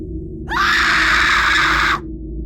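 A single loud, high-pitched scream from a woman, sustained for about a second and a half, over a low rumbling background.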